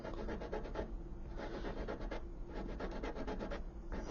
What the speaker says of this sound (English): When you start sanding, you're going to notice it kind of comes away in chunks